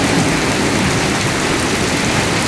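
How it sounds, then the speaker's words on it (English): Heavy rain pours down during a severe storm in the Dallas–Fort Worth area, a dense, loud, unbroken roar of water hitting surfaces with no pauses. "I've never seen it rain like this."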